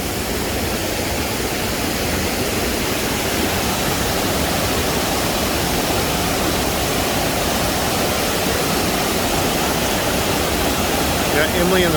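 A rushing waterfall on a Tennessee hike, a loud, steady, broadband roar of falling water filling the whole scene without pause, close by.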